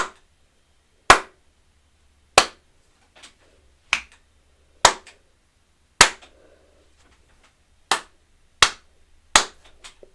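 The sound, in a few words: hand clapping to test room acoustics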